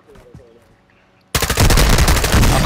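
Video game gunfire: after a brief spoken phrase and a pause, loud rapid automatic fire breaks out abruptly and continues in dense, sustained bursts.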